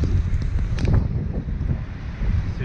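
Strong wind on a sailboat off Zanzibar buffets the microphone with continuous low rumbling gusts, loud and close, with faint water wash underneath.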